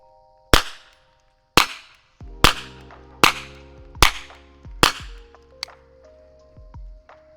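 Six sharp shots from a Meligun knife-gun revolver fired outdoors, spaced roughly a second apart, each a loud close crack with a ringing tail, followed by fainter metallic clicks.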